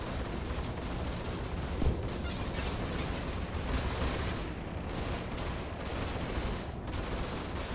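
Spaceship guns fire in the Star Citizen space combat game, a steady dense rumble of rapid shots and thuds at moderate loudness, continuous throughout with no talk.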